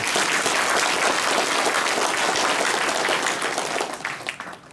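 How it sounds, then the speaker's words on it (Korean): Audience applause at a provincial governor's briefing in Jecheon: dense, sustained clapping from a crowd, loud and continuous, tapering off near the end. "제 말씀에 공감이 있는 분만 한번 박수 한번 쳐주십시오."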